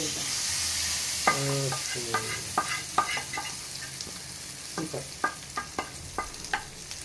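A tempering for mint chutney frying and being stirred in a pan, with sizzling hiss under repeated sharp clinks and scrapes of a spoon against the vessel, close and moderately loud.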